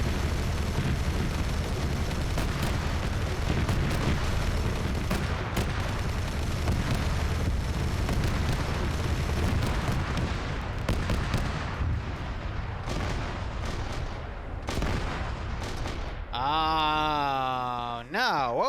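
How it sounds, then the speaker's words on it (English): Heavy cannon shots and explosive booms in the video game Boneblades, a dense barrage of loud blasts rolling on for a long stretch, ending with a wavering mechanical whine. "What was that heavy cannon shot from?"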